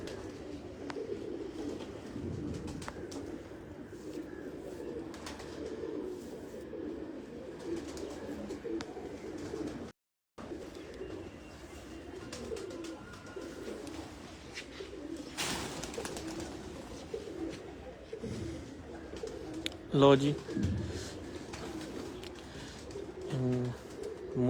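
Kajal pigeons coo softly at a pigeon loft in a low, murmuring background bed, with a brief word spoken and faint rustling.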